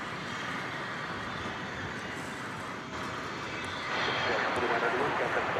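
A China Air Cargo airplane on final approach to land at DFW Airport gives off a constant, broad engine roar. The roar swells slightly louder toward the end, with people talking faintly underneath.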